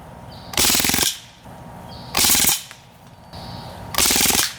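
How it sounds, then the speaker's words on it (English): An Umarex Strike Force CO2 blowback .177 BB rifle fires full auto in three loud, close bursts of rapid clattering shots, each about half a second long and separated by short pauses. "a full auto BB gun that looks really mean, has a high rate of fire"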